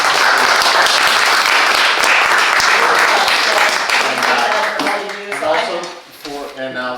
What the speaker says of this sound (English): think everybody should give me a round of applause for being able to do this